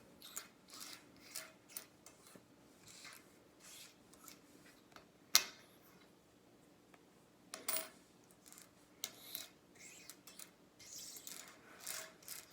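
Silver coins handled and sorted by hand, giving a run of small metallic clinks, slides and rubs, some sharp and close with one louder clatter, otherwise quiet with no talk.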